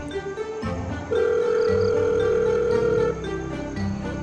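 A steady electronic ringing tone sounds on a phone line for about two seconds, rising out of a low background hum.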